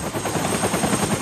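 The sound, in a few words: whoomp of a Huey helicopter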